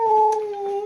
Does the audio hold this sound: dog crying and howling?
yes